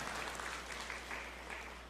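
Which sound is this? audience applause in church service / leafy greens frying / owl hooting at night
audience applause in church service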